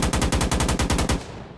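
AK rifle in the Firefight video game fires a rapid automatic burst of about a dozen evenly spaced sharp shots, then stops with a short fading tail.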